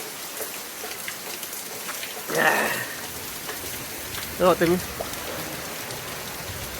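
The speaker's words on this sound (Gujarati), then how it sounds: "વરસાદ ફાઇનલ હે વરસાદ આવી ગયો મસ્ત મજાનો" Heavy rain falling steadily in a village, a constant soft patter throughout, with people talking over it in two short bursts.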